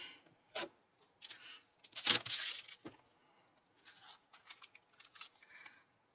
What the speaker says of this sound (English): I need to cut this excess before sticking, I think.